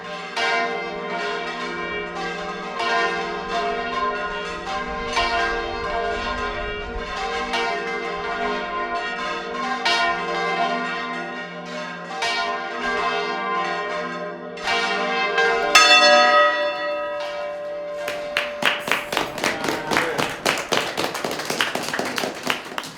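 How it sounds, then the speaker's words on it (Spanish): Church bells ring loudly from a bell tower in Albaida, Spain, in overlapping, resonant peals, then shift into rapid, clanging strikes toward the end. "Aquí se tiene mucho amor por las campanas."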